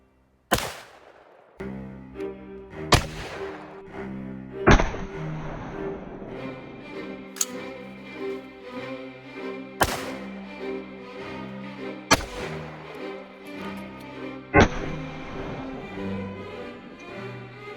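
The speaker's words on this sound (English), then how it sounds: "So we're shooting cantaloupes, pretty close range" Rifle shots fired at cantaloupes from about ten feet, seven sharp loud reports spaced a couple of seconds apart, each followed by a ringing decay, no talking.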